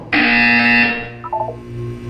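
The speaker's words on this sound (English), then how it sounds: "You will hear a buzzer." A test chamber buzzer in the video game Portal 2 gives one loud, harsh electronic buzz lasting under a second, then trails off into quieter fading tones.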